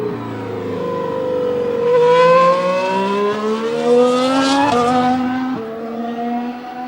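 A 2015 Mercedes Formula 1 car driven by Rosberg at Jerez preseason testing screams past, its high-pitched engine note rising as it nears, peaking loud, then dropping in pitch through gear changes as it pulls away.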